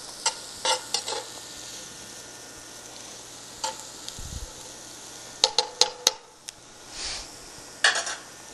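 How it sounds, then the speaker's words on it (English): Sliced mushrooms sautéing in a pan with a faint steady sizzle, broken by clinks and scrapes of a utensil stirring against the pan. "I'm going to just saute this until it becomes soft before adding the rice"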